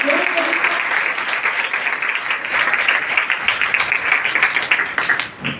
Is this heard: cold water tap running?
no